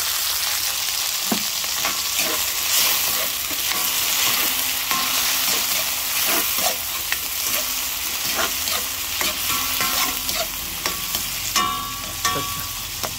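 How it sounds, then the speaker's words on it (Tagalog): Garlic, onion and tomato sautéing in a home-kitchen pan, a steady close sizzle and hiss running throughout, broken by repeated scraping and clinking of a utensil stirring against the pan. "lutuing maigi ang kamatis, ano, para lumabas ang lasa niya sa ating dish"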